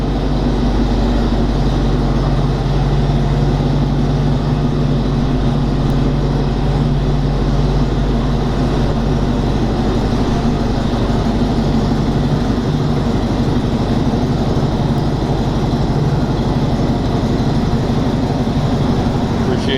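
A 1940 Ford Deluxe Coupe with a 350 Ram-Jet V8 and 4L60E transmission drives along, a loud steady low engine rumble with road and wind noise throughout, heard from inside or close by.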